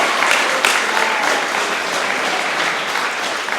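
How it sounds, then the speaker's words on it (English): Wedding guests applaud during the reception speeches, a dense, sustained patter of many hands clapping at once, fairly close and steady throughout with no voices over it. "Let's have a round of applause for Claire."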